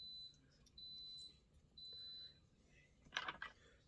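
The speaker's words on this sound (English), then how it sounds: "Coffee machine's done." A coffee machine beeps that it is done, sounding three thin, steady high-pitched tones in a row at low volume, then a brief clatter of handling noise.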